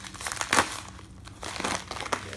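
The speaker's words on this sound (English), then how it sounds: "Okay, I just tear it nicely." A shipping package holding APMEX silver quarters is torn open by hand, giving close, crisp bursts of paper and plastic crinkling with short pauses between them and no talking.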